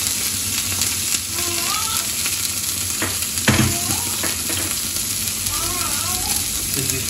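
Garlic frying in hot oil gives a steady close sizzle, with a few sharp knocks near the middle and some faint whistling tones above the hiss.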